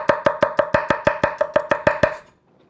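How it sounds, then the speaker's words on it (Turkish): A knife finely chopping garlic on a cutting board: about fourteen crisp, evenly spaced chops in a quick steady rhythm, close and clear, then stopping. "Sarımsakları yine çok ince şekilde doğuracağım."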